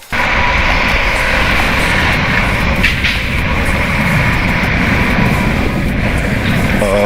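A motorcycle engine starts and runs at a steady, loud drone beside a building lift area, holding a continuous low rumble for several seconds with no talk over it.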